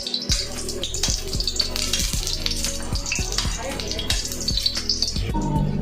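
Oil spitting and sizzling loudly in a pan as tofu and pork fry, a dense continuous crackle with sharp pops throughout.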